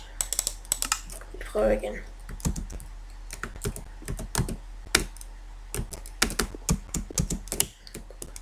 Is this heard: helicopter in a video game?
no